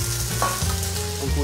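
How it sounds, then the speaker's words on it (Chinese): Ginger and garlic hit hot oil in a wok and sizzle steadily and loudly up close, with no talking, as they fry briefly for a braised sea cucumber and shiitake mushroom dish. "们把姜蒜丢上去。 稍微爆香啊。"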